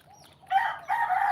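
Roosters at feeding time give short, loud crowing calls, two quick bursts close by with no talk.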